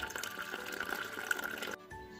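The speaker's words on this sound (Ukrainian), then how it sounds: "Теплої води доливаємо по плечики слоїчків." Warm water pours into a pot around canning jars of zucchini being preserved. A steady trickling stream runs for under two seconds, then cuts off, leaving quiet kitchen background.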